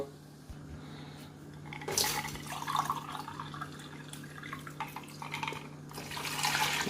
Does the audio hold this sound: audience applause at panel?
no